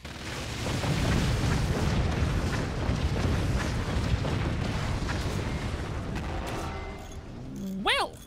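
Explosions in the artillery building game Forts roll on as a long, loud, rumbling barrage that fills most of the stretch, ending with a brief rising whoosh. A voice talks faintly underneath.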